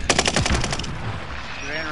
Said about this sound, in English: I'm getting shot from top.